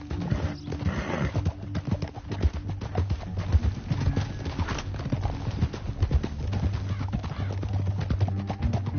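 Rapid, rhythmic hoofbeats of galloping horses in the video game Red Dead Redemption 2 pound steadily throughout, loud and close, with occasional whinnies and no speech.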